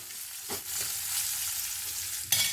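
Onions sautéing in a pan for a spinach curry make a steady low sizzle, broken by a few brief stirring scrapes at the start and end, close by with no voices.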